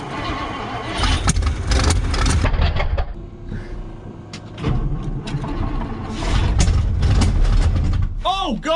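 A classic car with a troublesome carburetor runs loud and close, its engine roaring and revving in surges, dipping briefly before rising again, with a short whine near the end.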